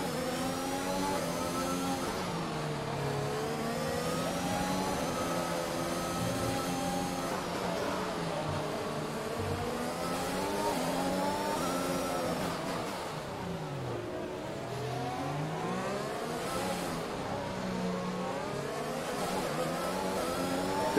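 A Formula 1 car in the F1 2021 video game at Monaco screams at high revs, its engine pitch dropping under braking and climbing again on acceleration, loud and continuous throughout.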